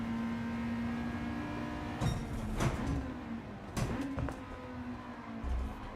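Car engine in Gran Turismo 7, a steady droning tone under a busy background, rising and dipping with a few sharp shifts and bursts of revving.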